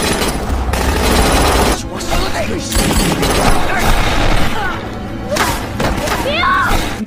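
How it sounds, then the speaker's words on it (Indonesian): Gunfight between bank robbers and police in a Korean TV drama, dense bursts of rapid gunfire and heavy booms crackling nearly nonstop, with brief pauses and scattered impacts. "Perampok bersiap untuk baku tembak dengan polisi yang datang."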